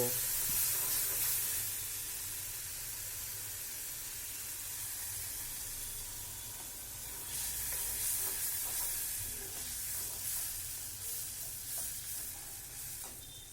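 Ginger, chili, garlic and tomato gravy added to a hot pan while cooking chole, giving a steady loud sizzle and hiss with light stirring scrapes throughout.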